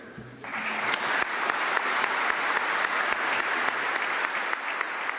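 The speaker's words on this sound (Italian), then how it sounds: "accompagnano sul sagrato il feretro tra gli applausi della piazza" A crowd in a town square applauds as a coffin is carried to a churchyard at a funeral, dense sustained clapping that swells in quickly and holds steady, broad and moderately distant.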